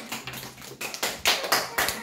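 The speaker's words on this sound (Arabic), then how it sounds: "هيا صفقوا لصلاح" Children in a classroom clap for a classmate during an Arabic letter lesson, a run of sharp, fairly close claps in uneven bursts with a few louder hits toward the end.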